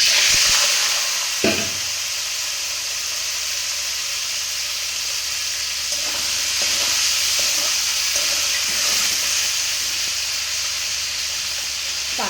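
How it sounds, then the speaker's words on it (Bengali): Tangra fish frying in hot oil, a loud steady sizzle and hiss running throughout, with a sharp pop or spatter near the start and a few faint clinks along the way. "এর ভিতরে কিন্তু এবার আমি ট্যাংরা মাছগুলো সব দিয়ে ভালো করে লাল লাল করে ভেজে ফেলবো।"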